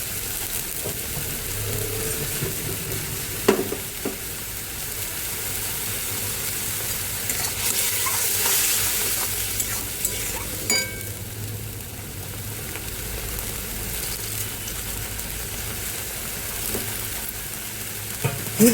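Potatoes fry in oil with bay leaf, turmeric, salt and spices for a village-style Bengali fish curry. They sizzle steadily throughout, with a few sharp clinks and scrapes of stirring.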